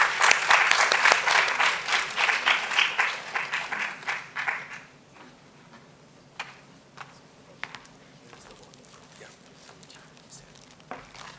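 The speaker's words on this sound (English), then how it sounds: "Please can we have a good round of applause to welcome him on the stage" Audience applause welcoming a speaker onto a stage, loud and dense for about five seconds, then thinning to scattered claps that trail off through the rest.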